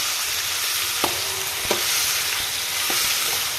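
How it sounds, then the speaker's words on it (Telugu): Peanuts frying in oil in a pan, a steady broadband sizzle broken by a few sharp clicks of stirring. "ఇలా ఇందులో ఆయిల్ వేసుకొని బాగా ఫ్రై చేసుకోవాలి"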